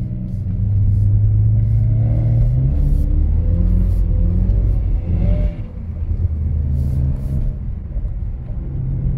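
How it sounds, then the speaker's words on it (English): A rear-wheel-drive BMW E46 car drifting through snowy corners, its engine droning loudly and revving up and down in rising and falling sweeps, heard up close as a continuous rumbling roar. "Sliding the corners."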